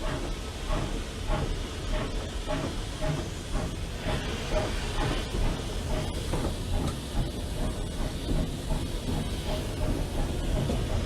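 British steam locomotive hauling an unfitted freight train: steady hiss and rumble with a regular clickety-clack of wheels on rail joints throughout, continuous and close, with no talk.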